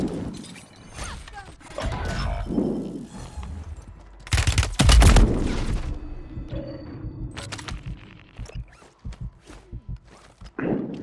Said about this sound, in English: There's someone shooting me right here.